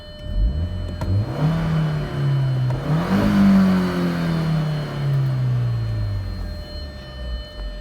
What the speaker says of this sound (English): don't feel too bad when I give her a rev.